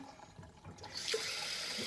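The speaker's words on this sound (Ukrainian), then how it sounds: "наберу теплої води" Warm tap water runs into a pot for washing buckwheat, starting as a faint trickle and swelling after about a second into a steady, close rush that continues to the end with no talk.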